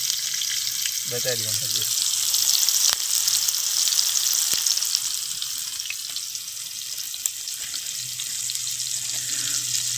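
Garlic frying in hot oil in a pan gives a steady, close, bright sizzle that runs unbroken throughout, with a brief spoken phrase near the start.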